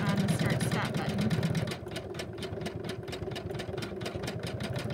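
An embroidery sewing machine satin stitching a green gumdrop, a fast steady mechanical chatter of needle strokes that grows more clearly rhythmic partway through, close by under faint background talk.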